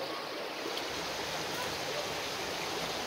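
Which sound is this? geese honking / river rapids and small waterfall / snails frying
river rapids and small waterfall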